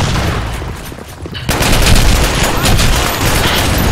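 Rapid automatic bursts from an UZI submachine gun in the shooter game BlackShot rattle loudly and close after a quieter lead-in, with a player's voice briefly audible.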